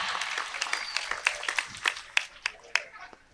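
A small audience at a community religious sermon for a fishing village claps sparsely. Scattered, fairly faint hand claps come in an uneven rhythm, with a thin murmur of voices beneath.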